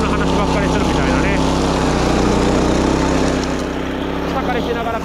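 A wing mower cutting grass drones steadily as a loud, constant engine hum with a low mechanical throb, close by throughout, while someone talks over it.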